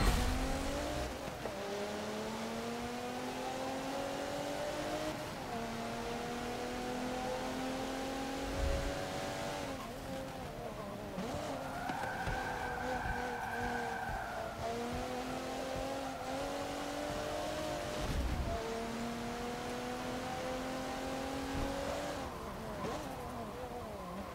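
Alfa Romeo race car in Forza Motorsport 7 under hard acceleration, its engine note climbing and dropping through repeated gear shifts at close range, loud and continuous throughout.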